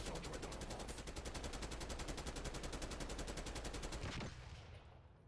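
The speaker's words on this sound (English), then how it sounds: "Trying to shoot the dreadnought." Rapid automatic gunfire hammers at the dreadnought in Call of Duty Black Ops 6, a fast, evenly spaced burst lasting about four seconds before stopping abruptly and trailing off.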